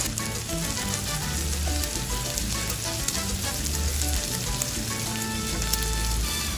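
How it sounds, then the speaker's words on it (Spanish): Bacon sizzling in a frying pan over medium heat as its fat renders for a quail carbonara, a dense steady crackle and hiss with scattered pops and no talking. "mi tocineta va a fuego medio para que ella vaya botando lentamente esa grasa"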